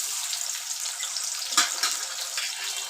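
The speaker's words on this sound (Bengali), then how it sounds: "আমি এবার পেঁয়াজগুলো দিয়ে দেবো।" Onions hit hot oil for a beef biryani, a loud, dense, continuous hiss with a brief sharper crackle in the middle and no talk.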